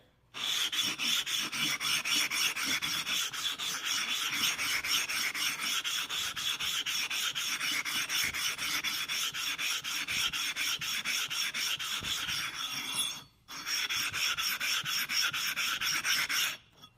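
A dished sharpening stone is rubbed flat against a flattening surface in a continuous gritty rasping scrub, loud and close, with fast back-and-forth strokes and one brief pause near the end.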